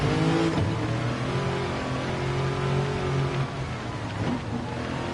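In Gran Turismo 7, a car with a 3UZ V8 engine swap drives on track, its engine holding a steady loud drone with rising and falling revs between gear changes.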